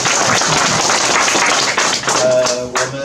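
An audience at a volunteer meeting of a Yunlin County veterans' service office applauds the director with loud, dense, sustained clapping from many hands that fills the room and stays close, with a faint tonal hum near the end.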